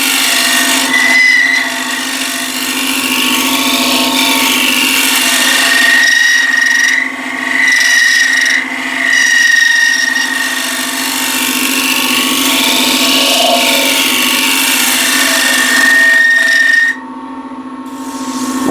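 A bowl scraper takes a light scrape across timber spinning on a woodturning lathe, giving a loud, sustained rasping hiss over the motor's steady hum, with short pauses and shifts in pressure before the cut stops.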